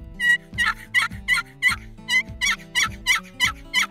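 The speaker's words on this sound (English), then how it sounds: "you can sound like multiple hens with the same call" A wooden turkey box call rasps out a rapid series of about a dozen hen-like yelps in a steady rhythm, loud and close.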